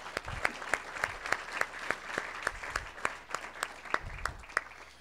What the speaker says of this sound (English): So I'd like to have a round of applause for all our finalists here today.